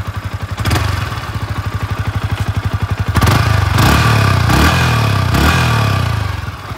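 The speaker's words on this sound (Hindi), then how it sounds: "साउंड सुन लेते हैं कि बाइक की साउंड कैसी है" A Yamaha R15 V4 motorcycle engine is started without clutch or brake and settles into a close, loud idle, its exhaust pulsing in a steady rapid rhythm. It rises briefly in a few revs before easing back.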